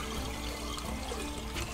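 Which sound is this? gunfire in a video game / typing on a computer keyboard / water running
water running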